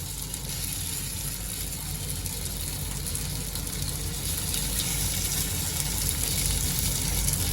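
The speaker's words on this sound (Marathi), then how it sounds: "आता एक एक करून मी जे टिक्की जी आहे ते शॅलो फ्राय करून घेणार आहे" Crispy beet cutlets shallow fry in oil on a tawa over high gas, giving a steady, even sizzle throughout with no talking.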